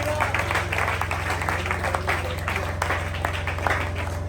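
A church congregation applauds for the Lord at a revival service, with steady continuous clapping over a loud low hum and mixed voices throughout.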